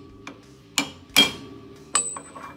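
Hammer taps on a lifting eye nut loosening it on an M151A2 military jeep rear control arm, four sharp metallic knocks spaced unevenly over a quiet workshop background, close and fairly loud.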